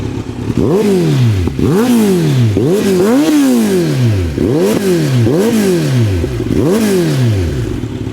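A Kawasaki Z900 motorcycle engine idles and then revs repeatedly, about seven rising-and-falling throttle blips in a steady rhythm, loud and close with no talking over it.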